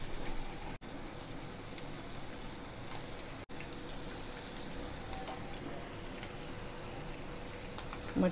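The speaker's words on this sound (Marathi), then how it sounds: "मच्छी फ्राय व्हायला लागली आणि छान सुगंध सुटलेला आहे." Anchovy fish frying in oil on an iron pan, a steady dense sizzle and crackle that continues evenly throughout at moderate loudness, with no talk over it.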